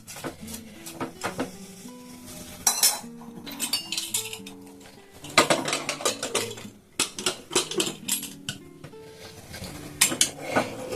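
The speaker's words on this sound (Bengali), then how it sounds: "তো আমি এটাকে একটুখানি হাতা দিয়ে সেট করে দিচ্ছি" A metal ladle stirs a vegetable curry in a pressure cooker pot, giving repeated clinks and scrapes against the metal at an uneven rhythm, with a steady tonal background running underneath.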